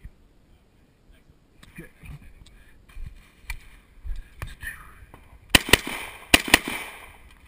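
Sharp shots from a Hi-Point .45 ACP pistol at an outdoor shooting course ring out in two quick pairs near the end, loud and close, after quieter handling sounds and soft voices.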